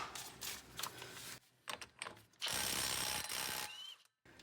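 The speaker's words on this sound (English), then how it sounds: "we'll hit it with an impact gun here" An impact gun rattles in a loud, sustained burst of just over a second while working on the rear wheel bearing assembly of a 2020 Subaru Ascent, preceded by scattered metallic clicks and clunks.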